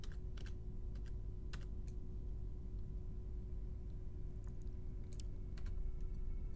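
Clicks from a computer keyboard during a session of the space game Avorion: a handful of light, scattered taps in small clusters over a steady low engine-like rumble.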